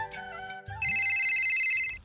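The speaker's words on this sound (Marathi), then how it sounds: "अरे यो कोणाचा फोन आला" A mobile phone ringtone for an incoming call, a bright repeating electronic melody that starts after a brief clatter and plays steadily and loud, close by, with no talk over it.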